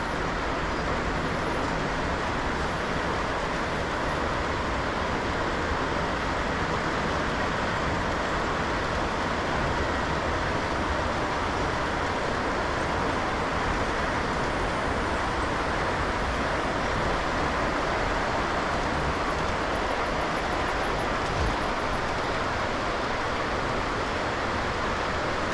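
O gauge model trains on a home layout, with diesels such as a GP9 and GP35 pulling a long consist, giving a continuous rumbling, whirring run that stays steady and fairly soft for the whole stretch, with no talking.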